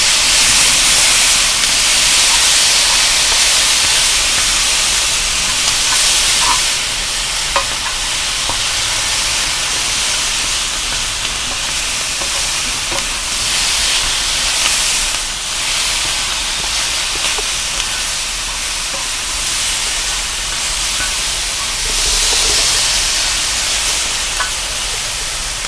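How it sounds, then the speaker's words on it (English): A teriyaki and sesame marinade sizzles on a hot FireDisc cooker, giving a loud, steady hiss that fills the whole stretch with only slight swells and no voices. "And then I'm going to hit a little bit of a marinade sauce that we've got here that's got some sesame seeds and teriyaki in it."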